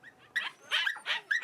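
Dogs and puppies rescued from a crowded apartment, now in Humane Society care, let out several short yips and whimpering barks in quick bursts, close and fairly loud, with no talking.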